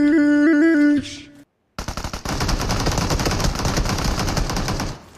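Rapid automatic gunfire from the mobile battle-royale game BGMI, a sustained loud burst of close shots after a short melodic game tone and a brief silence.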